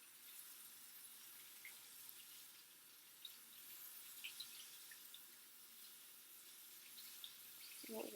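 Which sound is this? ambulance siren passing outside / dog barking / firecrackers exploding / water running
water running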